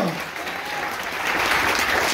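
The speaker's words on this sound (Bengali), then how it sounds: "একটা তালি হবে আমার জন্য।" A seated audience at a business success talk breaks into loud, dense applause, sustained hand clapping that swells slightly toward the end, with no clear speech on top.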